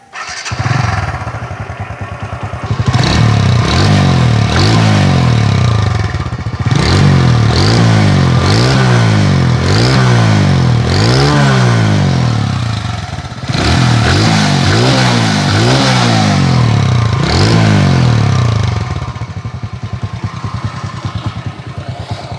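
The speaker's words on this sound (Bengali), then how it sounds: "এবার আপনাদেরকে গাড়ির ইঞ্জিনের সাউন্ডটা একটু শোনাই দিই" A TVS Radeon 110cc motorcycle engine runs loudly up close, idling and then revving up and down in repeated surges.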